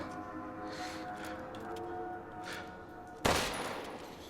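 A single sharp gunshot in Resident Evil Village rings out near the end, breaking a quiet, humming ambient backdrop.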